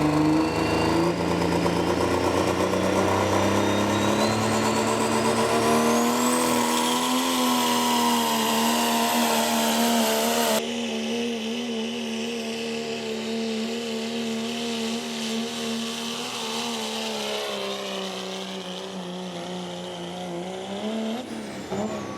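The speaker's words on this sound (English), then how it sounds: "he's about to spool up and take off here" Hot rod diesel truck spooling up and hauling a pulling sled at a county fair track, a loud sustained roar with rising turbo whine, heard close and continuous before shifting to a lower, steadier drone.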